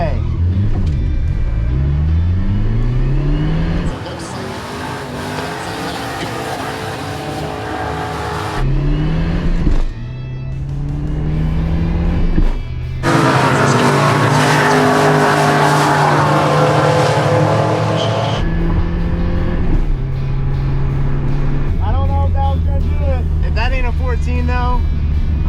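Drag race car, a cheap budget build with a 4-speed gearbox and stall converter, revs and shifts through gears at Cecil drag strip, loud rising engine pitches broken by gear changes with speech at times.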